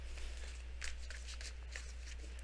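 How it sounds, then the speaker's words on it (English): Tarot cards are shuffled by hand in a few quick, soft riffling bursts, close but faint over a steady low hum. "I'm going to just shuffle."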